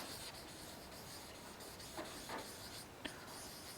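Pen or marker writing on a surface during a lesson on names and surnames, a faint steady scratching with a few short strokes, quiet and close with no talk.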